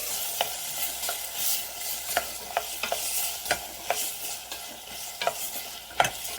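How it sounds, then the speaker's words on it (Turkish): Potatoes frying in a pan while being stirred, with a bright sizzle under a string of repeated spatula scrapes and clinks at an uneven pace, close and moderately loud. "Biraz patates de kavuralım."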